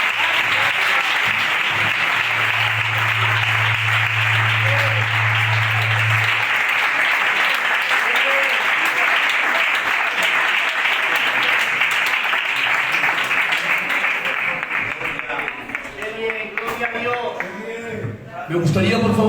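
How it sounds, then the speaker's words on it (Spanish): A church congregation applauds steadily in a dense, sustained wash of clapping that fills the space, with a voice speaking faintly over it as it fades toward the end. "Ese aplauso para el Señor."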